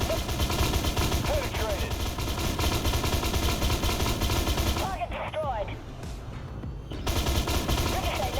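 A tank's machine gun fires in the video game Armored Warfare, with an Abrams AGDS in play: loud, dense, continuous rattling bursts that drop away briefly before resuming, over the engine rumble.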